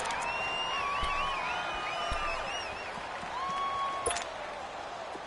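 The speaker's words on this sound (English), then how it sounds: "the crowd getting into it as we come up on a big 3rd down" An NFL stadium crowd at a Falcons at Ravens game builds noise before a big third down, with a broad roar, scattered whistles and whoops, and a few sharp claps.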